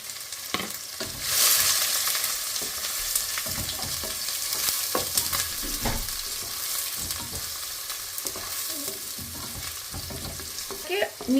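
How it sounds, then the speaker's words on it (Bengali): A large batch of chopped onions fries over medium flame for mutton liver masala, a steady close sizzle punctuated by repeated scraping and clacking of a spoon stirring against the pan. "আপনাকে অনেকক্ষণ ধরে ভাজতে হবে, যতক্ষণ না পেঁয়াজটা একটু ব্রাউন ব্রাউন হয়ে যাচ্ছে।"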